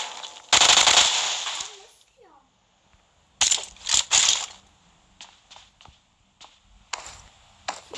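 Gunfire in the mobile battle royale game PUBG Mobile: a long loud burst of automatic fire, then a gap, then several quick bursts and scattered single shots, with a voice talking over the game.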